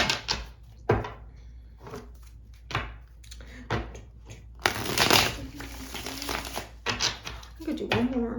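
Rider-Waite tarot cards being shuffled in quick riffling bursts, with a louder flurry midway, close up, with faint voice-like sounds in places.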